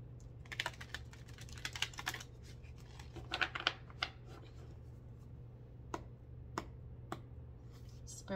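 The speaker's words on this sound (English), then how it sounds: "Gonna shuffle one time." Tarot cards are shuffled with soft, rapid riffling and clicking bursts during a reading, separated by a few sharp isolated snaps over a steady low hum, all fairly faint.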